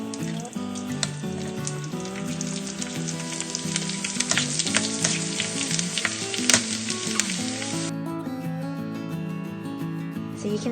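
Pork crackling frying in hot oil in a Saladmaster pan, a steady loud sizzle with crackling pops throughout, which eases to a lighter hiss near the end.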